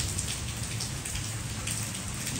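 Steady rain falls outdoors where a tiny hummingbird bathes, making a dense, even hiss of drops that runs loud and unbroken with no voices.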